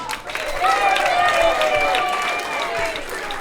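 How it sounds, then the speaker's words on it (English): A round of applause for Simon at a bar mitzvah party, crowd clapping and cheering with excited voices rising over it, fairly close and sustained. "how about a little big round of applause for Simon?"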